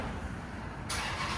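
A 2008 Chrysler 300C with a 5.7L HEMI V8 and Flowmaster Super 10 mufflers idles with a deep, steady exhaust rumble, close and continuous for a brief moment.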